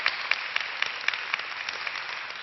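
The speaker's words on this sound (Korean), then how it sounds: "박수 한번 주세요" Audience applause at a Korean lecture-style talk show for a university student presenting his magazine for high schoolers: a brief, moderately distant round of clapping with a few crisp individual claps standing out.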